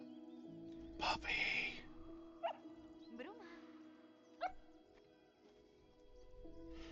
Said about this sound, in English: Puppy!